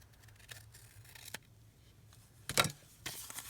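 Scissors snip through paper scraps being trimmed down for a fold-over pocket embellishment, giving a few short, crisp cuts close up, the sharpest near the end, over a quiet room.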